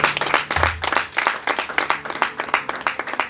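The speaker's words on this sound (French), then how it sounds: "Merci, applaudissez pour vous." Audience in a church clapping together after a sermon prompt, a dense, steady burst of many hands at close range with no voices over it.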